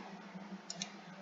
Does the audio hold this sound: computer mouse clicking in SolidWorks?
yes